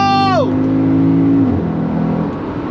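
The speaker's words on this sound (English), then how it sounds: "And that blip, that noise when it changes gear, mega." Mercedes SLK55 AMG V8 revving hard in manual mode from third gear, pitch climbing then dropping sharply at the shift, with a throttle blip at the gear change, loud and close from inside the car, followed by a steady drone.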